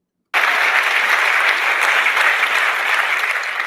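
An audience at a TEDx leadership talk breaks into applause, a sudden, loud, sustained clapping from a crowd that continues steadily without speech.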